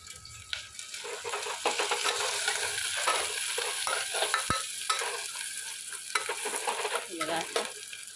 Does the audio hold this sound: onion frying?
yes